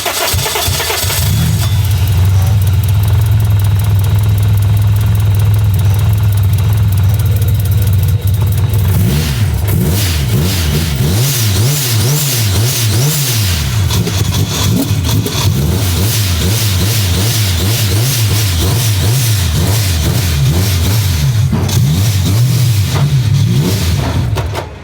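A 1985 car with a new Fuel Tech 550 ECU, built engine, C38R Rotrex supercharger and a low battery cranks roughly and then fires. The engine catches and revs in repeated rising and falling sweeps, loud and close, with no talk.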